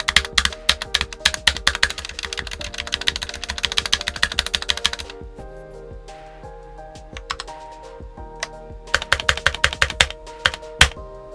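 Rapid typing on a Redragon Caraxes Pro K644 SE 60% mechanical keyboard, dense bursts of clicky keystrokes with a short pause in the middle, close and loud, with slight ticking.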